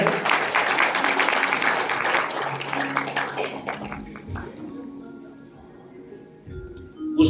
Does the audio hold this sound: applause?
yes